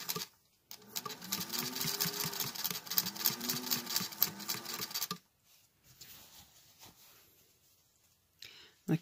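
A sewing machine stitching binding onto a placemat near a corner whirs steadily for several seconds, then stops, leaving quiet with faint handling noises.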